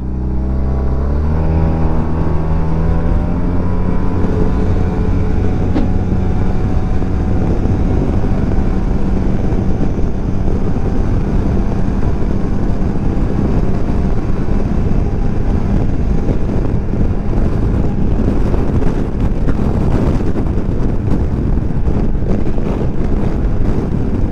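A 2020 Maxsym TL 500 scooter pulls away from a standstill, its engine note rising smoothly and steadily under loud, constant wind rush against the microphone for the whole run.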